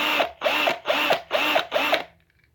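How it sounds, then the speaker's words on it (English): A power drill bores out the rivets of a small 1:64 diecast car in five short, even bursts of whirring with brief pauses between, close and fairly loud, ending in quiet. "let's get this last one drilled out"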